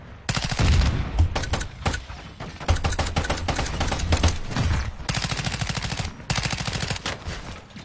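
Rapid automatic gunfire in a video game, long loud bursts of rattling shots fired nearly nonstop with a couple of short breaks, close and dominant with no talk.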